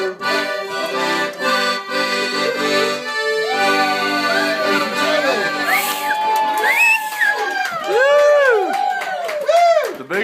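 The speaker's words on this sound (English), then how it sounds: "Biggest applause." An audience cheers, whoops and shouts after an accordion song at a livestreamed show, a loud, close mix of excited voices and crowd noise lasting about ten seconds.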